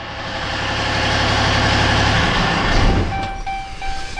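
A 6.7 Cummins diesel drag truck engine roars loudly and harshly, then drops away around the three-second mark, leaving a lower mechanical drone with thin whining tones.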